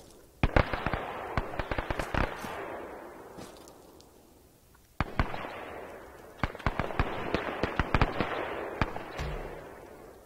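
Artillery rounds strike in ArmA 3 gameplay, two rolling salvos of sharp cracking blasts, each starting abruptly and then trailing into a long sputtering rumble. They are heard loud and distant without any speech.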